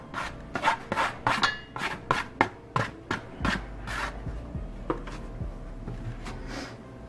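Mashed bananas are stirred into breakfast cookie batter in a bowl, a run of rhythmic rubbing, scraping strokes from a spoon against the bowl, close and fairly quiet, with no talk.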